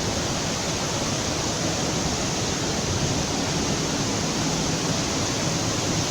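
Floodwater pours over a canal lock on the Rochdale Canal after heavy rain, a loud, dense, continuous rushing roar with no pauses, close by and steady.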